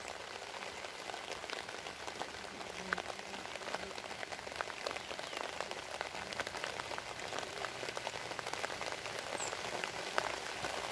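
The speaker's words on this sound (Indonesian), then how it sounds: "Hujan makin rintik-rintik." Light rain patters steadily and softly outdoors during the transfer of a Trigona biroi stingless bee colony from a log to a hive box, with a fine continuous hiss of drops and no voices.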